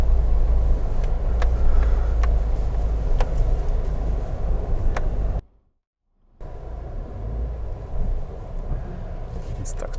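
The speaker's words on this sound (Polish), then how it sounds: "Bez problemów autko wspina się pod górę" Off-road drive in a 2019 Suzuki Jimny climbing a hill, with a steady low engine rumble and rough bumping that briefly cuts out, then returns, and people talking over it.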